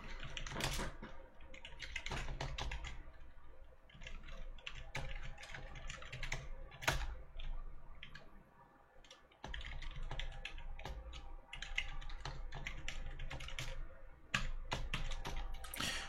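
Rapid keystrokes clatter on a computer keyboard in uneven bursts, close and crisp, with short pauses and a brief lull midway before the steady tapping resumes.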